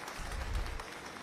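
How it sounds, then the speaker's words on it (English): Brief audience applause at a medical college convocation ceremony in Ahmedabad, a dense, moderately loud clatter of hands. "Let us have a huge round of applause."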